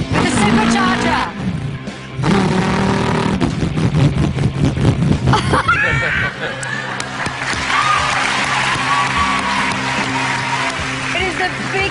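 A voice imitating a revving car engine on a talent show stage, a string of loud throaty vroom bursts and rising whines, followed by cheering and applause from the audience.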